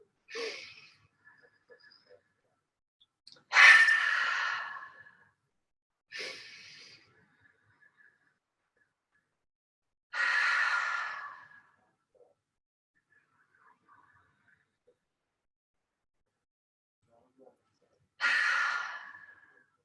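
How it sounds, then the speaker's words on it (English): Five deep, audible breaths spaced several seconds apart, each a soft airy inhale or exhale through nose and mouth at the close of a guided breathing practice, close and clear against near silence. "3 deep breaths in through the nose and out through the mouth to finish"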